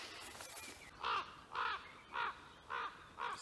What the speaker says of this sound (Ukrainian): Ворона настирлива така вчепилася до мене і кричить